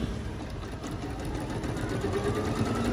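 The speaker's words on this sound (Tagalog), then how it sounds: "Very easy to use naman po kung paano po i-operate po ito pong ating sewing machine." A sewing machine stitching a scallop design runs steadily at close range, a continuous even mechanical whirr with a rapid needle rhythm and no voices over it.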